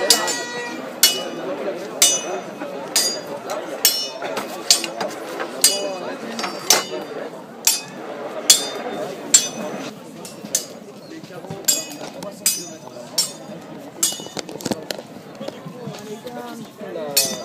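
A forged iron socket is struck repeatedly with a hammer on an anvil, sharp ringing clinks in an uneven rhythm, close and loud, with some talk between blows.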